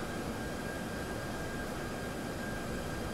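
Aircraft engine in the X-Plane 12 flight simulator, throttling up during a landing attempt near a highway, makes a steady, dense roar with a faint whine, continuous and loud with no talk.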